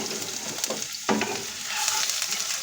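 Cumin, chopped garlic and ginger frying in oil in a pan produce a close, steady sizzle with crackles and a brief stirring scrape midway.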